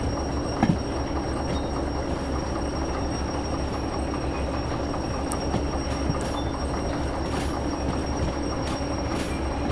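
A locomotive braking in the video game Derail Valley while shunting: steady rolling train rumble with faint wheel squeal and clicks, continuous and moderately loud throughout.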